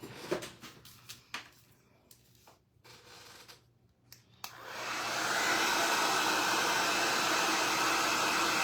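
Hair dryer switches on and blows steadily and loudly, a constant broadband rush after a few seconds of quieter handling noises, used gently on low heat.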